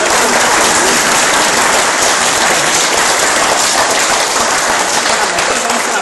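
Loud, steady applause from a live audience at a Telugu stand-up comedy performance fills the whole stretch, dense continuous clapping with no pauses.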